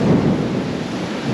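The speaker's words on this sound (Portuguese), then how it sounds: "A gente tá todo ensopado aqui com a chuva." Heavy rain pours down steadily with a deep roll of thunder at an outdoor theme park, Universal Orlando, a dense close wash of noise with no voices.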